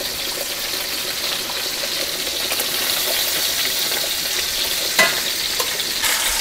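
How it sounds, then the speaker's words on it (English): Meat pieces searing in a hot pan, a loud continuous sizzle and spatter with a brief knock near the end as the pieces are turned. "I am just rotating these, trying to get a nice sear on all edges here"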